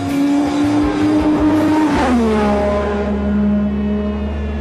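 Ayrton Senna's racing car, driven by Lewis Hamilton, revs hard and then drops in pitch as it shifts or eases off, a loud, close engine howl that settles into a lower steady drone.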